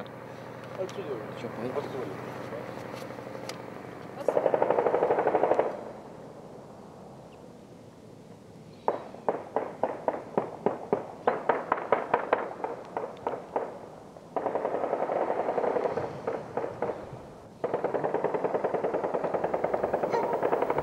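Gunfire echoes through war-torn Grozny, Chechnya, with rapid bursts of shots separated by quieter stretches and rough background noise, while voices speak at times.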